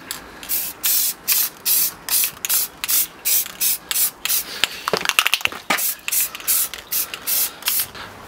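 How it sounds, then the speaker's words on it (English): Rapid, regular bursts of brass spray paint hiss from an aerosol can over the top of a steampunk model dragon, with a brief clattering rattle midway through the steady rhythm of short, close sprays. "Now I'm going to put a layer of the brass spray paint over the top of the dragon."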